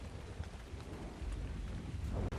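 Steady rain with a low thunder rumble in the video game Ark Survival Ascended, a broad constant wash with deep rolling swells, fairly quiet and with no voices.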